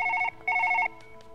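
A telephone bell rings in two loud, close electronic trills, a short burst and then a longer one, with faint clicks after the ringing stops.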